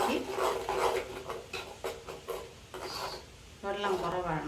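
Salt stirred by hand into water holding soaked tamarind, a soft, continuous rubbing and scraping swirl close up that rises and falls in uneven strokes, with no voices.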